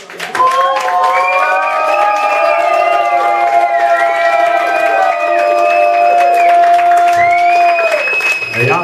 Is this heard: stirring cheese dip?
no